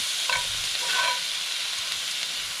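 Steak and chicken fajitas frying in rendered steak fat over a penny can stove, a steady close broadband sizzle with a couple of brief stirring scrapes, no talking.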